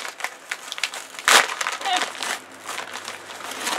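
A book parcel envelope being torn open, with a burst of close crinkling and ripping paper near the middle among smaller rustles and handling noises.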